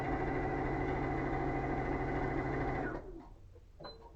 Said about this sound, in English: this is kind of mindless sewing, because it's lots of chain piecing like this, lots of straight line sewing